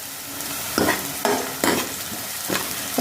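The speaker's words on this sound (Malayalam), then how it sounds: "വെളിച്ചെണ്ണയ്ക്കകത്ത് തന്നെ കടുക് വറുക്കണം." Mustard seeds fry in hot coconut oil for Kerala moru curry, giving a continuous close sizzle with several bursts of louder crackling spitting as the seeds pop, and no talking.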